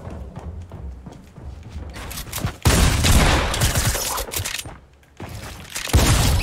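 Tactical shotgun fire in Fortnite: several loud, sharp blasts in quick succession, with heavy bursts around the middle and again near the end over a constant game background.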